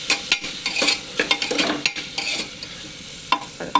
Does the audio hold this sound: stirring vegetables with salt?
yes